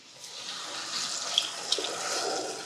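Water poured steadily from a tap or jug into a pot of rice, a continuous splashing rush that runs alone throughout with a couple of brief drips near the middle.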